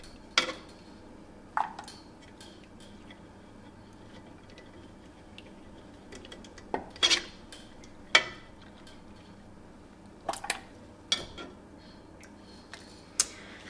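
Scraping and tapping at a pan's edges where leftover prime rib has stuck, heard as sparse, sharp metallic clicks and scrapes spread irregularly over a quiet background.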